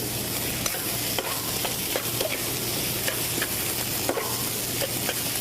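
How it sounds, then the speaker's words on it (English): Vegetables and rice fry in a hot pan while being stirred, with a continuous close sizzle broken by repeated soft scraping clicks of the utensil, and no voices. "And we'll stir this around again."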